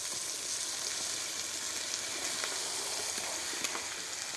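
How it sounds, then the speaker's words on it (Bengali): Spices frying steadily in oil in a pan, for a village picnic egg dish: continuous close sizzle with scattered crackles and faint stirring scrapes, no talk. "মশলাগুলো ভালো করে ভেজে দিচ্ছে"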